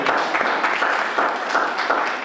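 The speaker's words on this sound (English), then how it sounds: "please clap for them" A seated audience at an inspiration group event gives short, dense applause, a steady wash of clapping that holds evenly throughout.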